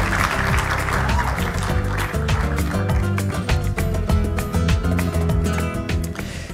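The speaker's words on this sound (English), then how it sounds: "please give both of these gentlemen a round of applause" Audience at a conference plenary session claps for two honorees, the applause rising over a sustained musical bed with tonal notes beneath, moderately loud throughout.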